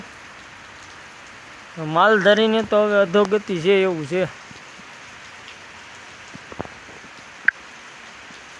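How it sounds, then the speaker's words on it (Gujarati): Steady rain hisses throughout, with someone speaking briefly near the start and a few faint drips and clicks later; an unseasonal rain shower at a cattle farm. "મિત્રો વરસાદ થઈ ગયો ચાલુ"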